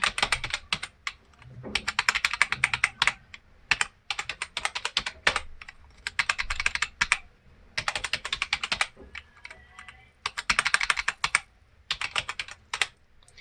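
Typing on a computer keyboard while writing HTML list code, in bursts of rapid, close clicking separated by short pauses, loud and clear with no talking.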